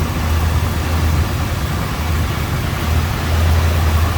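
Engine of a 1967 Ford Galaxie 500 XL convertible with a four-barrel Z-code V8 running at a steady idle, a close, continuous low rumble with a slight pulsing throb and no talk over it.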